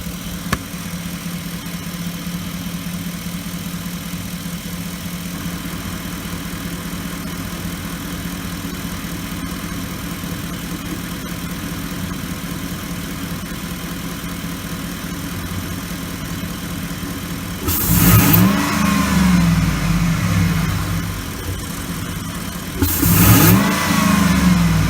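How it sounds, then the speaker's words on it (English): A 2008 Ford Expedition engine with an upgraded intake idles steadily, then revs up sharply twice with a loud rushing intake roar, settling back between bursts. "I'll let you hear the intake."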